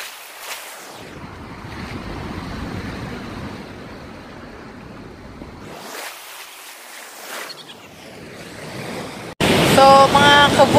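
Cold winter sea surges onto a beach where people camp in tents and camping cars, two long swells rising and breaking in a roar, with wind buffeting the microphone and a loud burst at the end.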